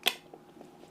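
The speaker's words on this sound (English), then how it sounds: "Let's try the scissors out." A single sharp snip from small scissors in a vape coil-building toolkit, close and crisp, followed by faint clicks of the blades settling, with no talking.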